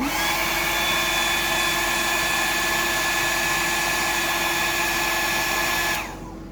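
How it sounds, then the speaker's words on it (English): Hair dryer blowing steadily on a fresh coat of paint, a loud, constant whine and whoosh held for about six seconds before switching off abruptly. "I'll just dry that off a little bit and then put another coat on."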